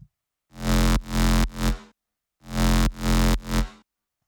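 A deep bass house synth bass plays a repeated rhythmic phrase of three punchy notes, twice, with a short gap between phrases.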